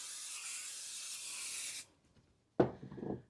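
Basting spray hisses in one steady burst of about two seconds onto a baby quilt being assembled, close and loud, then stops and is followed by a short rustle of the fabric being handled.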